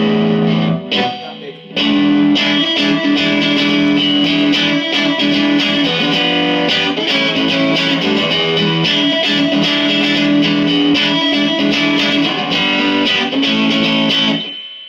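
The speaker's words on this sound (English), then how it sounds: "It's still a bit of a ringing, God, that reverb." An electric guitar played through a Session Rockette 30 amp with heavy ringing spring reverb and some distortion, loud and continuous chords with a washy tail.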